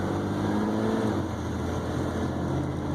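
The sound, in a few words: 1994 Ford F-150 with 300 cubic inch engine driving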